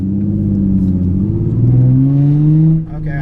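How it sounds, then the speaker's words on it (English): A V6 Ford Mustang engine revs up with a rising, throaty drone, held close and loud for a few seconds before cutting off abruptly. "Okay, I got a little V6 Mustang right here."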